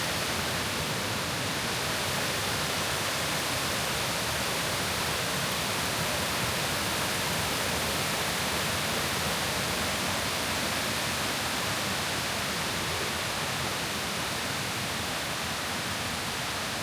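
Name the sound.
Kuang Si waterfall cascading, Luang Prabang, Laos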